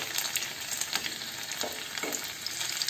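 Chopped garlic frying in hot mustard oil for patuwa saag, a steady close sizzle with crackling bursts and occasional stirring, no voices.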